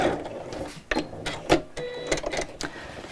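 Sewing machine stitching a seam close to piping, short uneven bursts of rapid mechanical clatter with pauses between, close and fairly loud.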